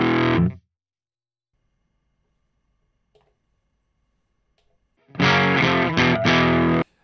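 Electric guitar through a Chroma Console pedal set to distortion with the drive fully maxed, two loud saturated bursts of fuzzy, compressed tone separated by nearly five seconds of silence.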